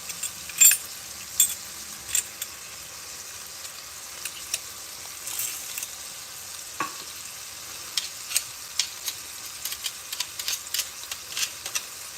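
Garlic frying in a pan for homemade pizza sauce, a soft crackling sizzle broken by repeated spoon taps and stirring clicks against the pan, close and fairly quiet.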